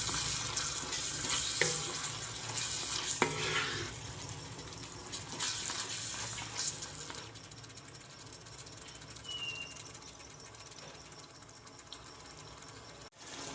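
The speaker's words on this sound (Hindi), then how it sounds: "मटरों को कीमे के साथ हम 2 से 3 मिनट के लिए भून लेंगे।" Mutton mince keema with green peas frying in a pan, a steady low sizzle with occasional stirring scrapes and clatters, fairly close and moderately loud throughout with no talking.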